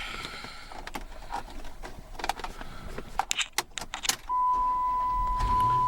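A 2008 Dodge Challenger SRT8 gets keys jingling and a few sharp clicks inside the cabin, then the engine cranks and catches into a loud, steady idle, close by.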